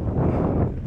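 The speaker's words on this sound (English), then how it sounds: "it's always so windy here" Steady low wind rumble buffeting the microphone throughout, loud and continuous with no other clear sounds.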